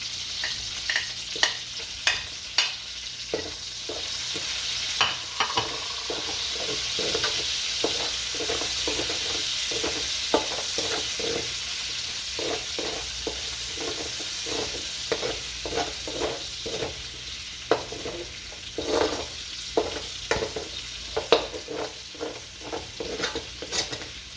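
Onion sautéing in a pan for ginisang sitaw with pork gives a steady close sizzle, punctuated by frequent scraping stirs and clinks of a utensil against the pan, with no one speaking.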